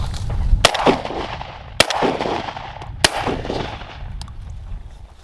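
Three sharp, loud shotgun blasts while bird hunting, spaced roughly a second apart, each trailing off in an outdoor echo.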